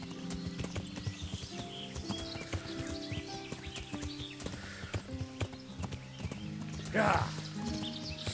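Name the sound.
horse hooves while riding in video game Kingdom Come: Deliverance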